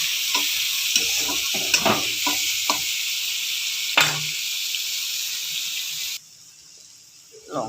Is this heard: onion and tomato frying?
yes